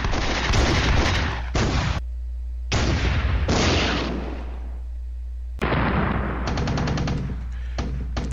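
Artillery and mortar fire in a war strategy game: loud, dense bursts of gunfire and explosions in several heavy volleys, broken by short quieter gaps.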